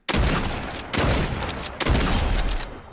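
Three heavy shotgun blasts from the Infiltrator in Fortnite Chapter 4 Season 4 fire at a steady pace, each a loud booming crack that decays before the next, with no talking.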